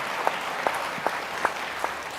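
A few hands clap at an Indian conference event, about five evenly spaced claps over a couple of seconds, fairly faint and sparse rather than a full ovation.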